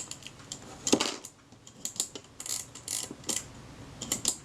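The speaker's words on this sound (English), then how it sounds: "I'm rolling the sprocket with my thumb, and as I roll it round, this piece here, you can't see it, this piece down here follows that cam" A Kodak Retina II type 014 camera being serviced, its film sprocket rolled by thumb so a follower rides the cam, giving close, quick mechanical clicks and ratcheting ticks in irregular bursts.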